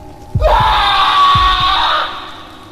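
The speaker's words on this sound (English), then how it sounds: "Someone was screaming." Agonized, tortured screaming played from a phone, loud and sustained for about two seconds, with a few dull thumps at the start, then trailing off.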